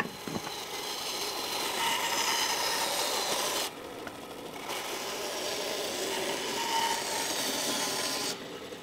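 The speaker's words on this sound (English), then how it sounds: "then remove the waste on the bandsaw" A bandsaw cuts away waste from a wooden vanity handle, producing a loud, steady whirring rasp that runs continuously, briefly dips as the blade clears the cut, then resumes; close to the machine and free of talk.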